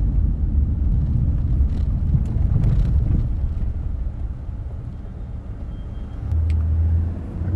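Cars pass on a road in Fortaleza, Brazil, a steady loud rumble of traffic and engine noise with wind buffeting the microphone, swelling slightly near the end as another vehicle goes by.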